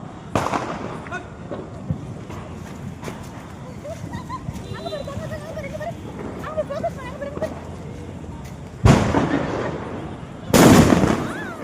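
Diwali firecrackers go off in sharp, loud bursts, one early and two near the end, with people chatting nearby in between.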